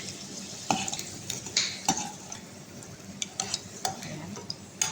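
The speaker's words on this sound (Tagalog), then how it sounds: "I-prito natin muna ito. Carrots at saka patatas." Carrots and potatoes frying in a pan while being stirred, with a steady sizzle under sharp scrapes and clinks of a utensil against the metal, close and clear, no talking.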